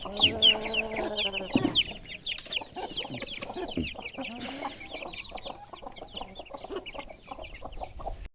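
Young aseel rooster clucking repeatedly near a farm pen, a run of quick, close clucks and calls with other fowl sounding busily around it.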